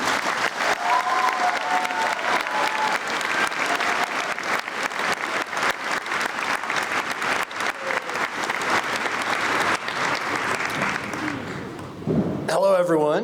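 A high school graduation crowd applauds the commencement speaker at South Burlington High School, sustained dense clapping for several seconds before it fades and a voice begins at the very end.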